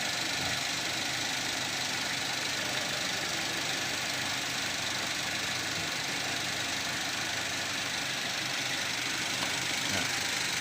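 A 2010 Toyota Avanza Type E engine idling with its air sensor disconnected, a dense, steady close-up mechanical rumble and clatter that stays even throughout with no talk.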